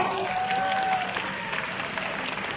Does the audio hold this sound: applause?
yes